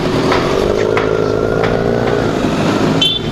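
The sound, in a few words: Kawasaki Z900 motorcycle revving throttle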